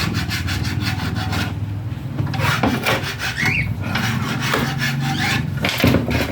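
A metal file rasps rhythmically across a saw blade's teeth in quick repeated strokes to sharpen it, close and fairly loud, with no talking.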